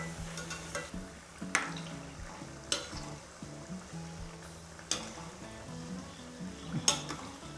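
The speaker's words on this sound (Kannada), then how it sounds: "ಇವುಗಳು ಈಗ ಗೋಲ್ಡನ್ ಬ್ರೌನ್ ಬಣ್ಣಕ್ಕೆ ತಿರುಗೋವರೆಗೂ ಕರ್ಕೊಳ್ತೀರಮ್ಮ" Shankar poli dough pieces deep-frying in hot oil for Diwali, a steady close sizzle and bubbling with a few sharp clinks of a slotted spoon or pan stirring through it, no talking.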